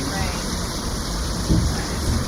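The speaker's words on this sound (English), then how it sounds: "pissing down rain" Heavy rain pours down in England in a dense, continuous hiss, with a brief low thump partway through and no clear voices.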